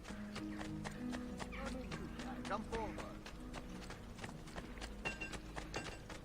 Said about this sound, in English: Can I ride my horse in the city?